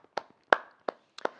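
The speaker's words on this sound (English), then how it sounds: "just a round of applause for Kai" Several separate hand claps in a sparse, uneven pattern, a short round of applause from one or two people, close and fairly soft with quiet gaps between them.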